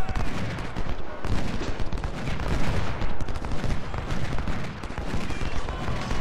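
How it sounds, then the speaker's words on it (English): Civil War battle din in the strategy game Ultimate General: Civil War, with artillery and musket fire rolling into a steady, loud, crackling and rumbling barrage with no pauses. "Waiting for some artillery to come on."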